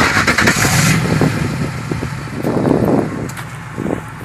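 A Ford F-150 pickup's 5.4 V8 with the muffler removed and dumped exhaust roars as it starts and runs, heard close with rough, throaty engine noise and a few short blips.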